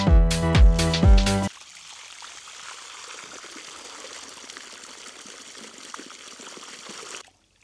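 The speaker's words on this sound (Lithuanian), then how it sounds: "dabar po truputį vis bėgs tas vanduo, tai kol iš visos sistemos ir išbėgs" Water trickling and dribbling steadily out of the hoses of a blueberry watering system as it drains, a soft continuous flow after a brief louder burst of other sound at the start, then stopping abruptly.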